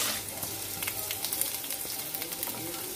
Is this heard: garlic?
yes